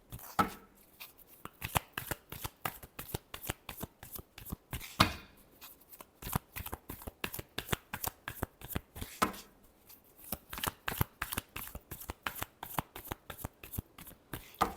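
Tarot cards shuffled close up in rapid bursts of crisp riffling flicks, with two short pauses between runs and no voices.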